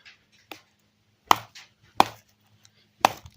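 Sharp knife strikes chop into wood using a flail grip, three loud distinct hits spaced about a second apart with a few lighter taps between, in a quiet setting.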